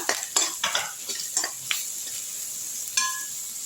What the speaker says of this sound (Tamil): இதோட இஞ்சி பூண்டு பேஸ்ட்டையும் எடுத்து போட்டுடலாம். அதையும் சேர்த்து நல்லா வதக்கிடுங்க.